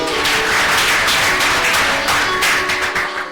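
Dense, loud applause from an assembly welcoming new students and university rectors at an institute in Mwene Ditu, a continuous wash of many hands clapping that swells and fades slightly.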